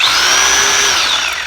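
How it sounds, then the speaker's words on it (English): A large borrowed multi-drill power tool runs continuously at high speed, producing a loud, close whine with a slowly shifting pitch and no pauses. "So I've borrowed a big multi-drill."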